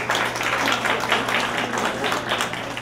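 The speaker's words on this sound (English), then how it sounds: "the speaker deserves a huge round of applause" Library audience applauding a visiting author, a steady broad wash of clapping that holds at an even level for about three seconds, with a low constant hum underneath.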